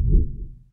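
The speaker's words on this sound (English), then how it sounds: "The next level is what we call the double ping, which sounds like this." In RuneScape, the double-ping scan clue alert gives a short, low, muffled pulse with a slight second swell. It decays over less than a second.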